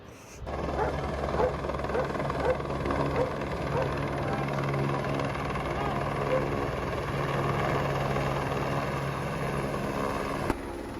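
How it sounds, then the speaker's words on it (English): A helicopter's steady rotor roar fills the scene nearby at a mountain refuge in the Pyrenees, delivering supplies, continuous and loud, with a dog barking now and then and voices in the background. "I finally got to see a helicopter resupply at a refuge."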